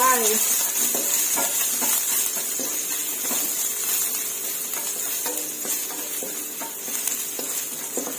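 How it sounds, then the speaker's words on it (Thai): Minced garlic frying in hot oil in a pan, giving a steady broadband sizzle with scattered crackles and stirring clatter throughout, with no talking over it. "ใส่น้ำมันลงไปค่ะ ตามด้วยกระเทียมสับค่ะ ใส่ลงไป"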